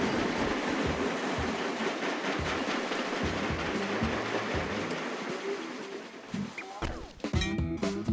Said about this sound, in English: I forgot that the train stops at the station.